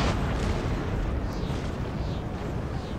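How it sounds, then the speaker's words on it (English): Cannon fire in the Napoleon: Total War battle for Vienna comes as a dense, continuous roar of booming artillery and rumbling explosions, loud and unbroken throughout, with no clear separate shots. "my cannons are actually in direct fire of these guys very soon"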